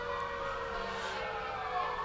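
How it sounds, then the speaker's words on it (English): Fire engine sirens wail continuously at a Christmas parade, at moderate distance, steady and droning without pause. "Showing off their sirens and lights."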